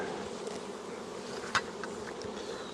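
Queen honeybee crawling out while a nuc is dropped into an old hive, a faint steady buzzing hum of bees close by with a brief click partway through, no speech.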